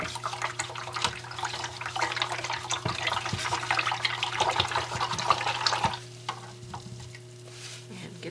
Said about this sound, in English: I want to quickly rinse my brush.